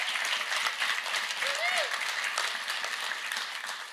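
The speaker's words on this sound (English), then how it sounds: "Would you please give our congressional" Audience applause for congressional delegations at a New York City infrastructure event, a steady wash of clapping from a large crowd with a brief whistle-like tone rising through it, and faint voices mixed underneath.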